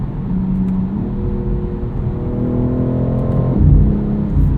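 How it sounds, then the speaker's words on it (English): A 2022 BMW X3 M Competition with its 8-speed gearbox drones loudly from inside the cabin as the engine pulls up through the revs. The pitch drops suddenly at each quick upshift, and a low rumble swells near the end. "This 8-speed, super quick shifts, a little bit of a burble between every single one of them."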